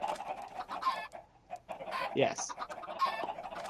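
Chickens cluck in short, irregular bursts in a video game, with a brief spoken word among them.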